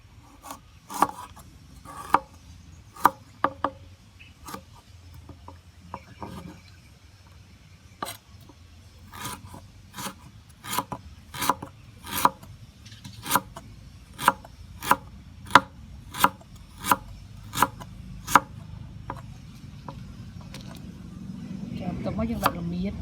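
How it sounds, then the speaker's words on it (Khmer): A knife chopping vegetables on a cutting board while making mixed vegetable soup, with sharp, close knocks that start irregular and settle into a steady run of evenly spaced chops, and a voice talking between them. "យើងហាន់សបត់ចូលមក"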